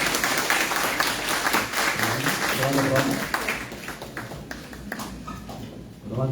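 A conference audience claps for an introduced guest, a fairly loud burst of many hands that thins out toward the end, with a voice speaking over part of it.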